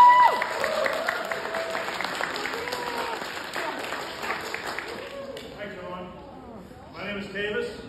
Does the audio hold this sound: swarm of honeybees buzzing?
no